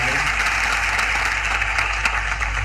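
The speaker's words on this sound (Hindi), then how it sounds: "ताली बजा दो।" A dense, steady wash of audience applause fills a cooperative-day government event hall in Bhopal, sustained and fairly loud throughout with no clear individual claps standing out.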